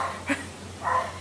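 A neighbor's dog barks twice, faint and distant, two short muffled barks separated by a brief pause over a low steady hum.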